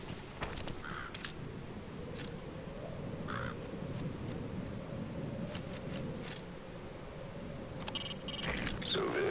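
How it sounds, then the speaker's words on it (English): A raven caws repeatedly in a PS4 video game, several harsh calls scattered over a steady low ambient rumble, with no talking. "So this is Raven territory."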